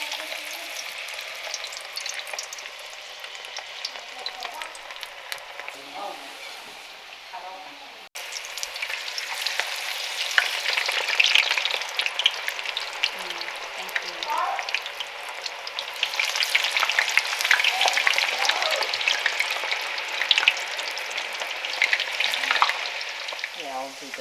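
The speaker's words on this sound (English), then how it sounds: "So now I'm gonna fry the potatoes." Potatoes deep frying in hot oil for classic Canadian poutine fries, a steady dense crackling sizzle that grows louder partway through and continues close and unbroken.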